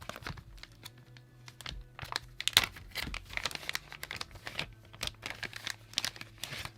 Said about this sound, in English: Hefty plastic bag.